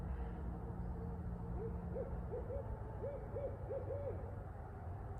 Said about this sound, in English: see if you can hear that owl